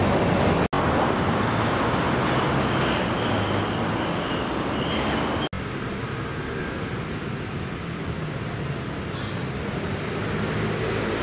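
A Milan tram rolls along its rails in a city street, a loud, continuous rumble with faint high wheel squeal, steady throughout apart from two brief dropouts.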